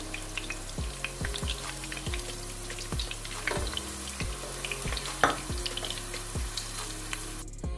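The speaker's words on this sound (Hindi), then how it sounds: "ये देखें भिंडियाँ बिल्कुल फ्राई हो चुकी हैं।" Okra (bhindi) fries in oil in a pan, a continuous crackling sizzle punctuated by regular scraping strokes of a spatula, close and moderately loud with no speech.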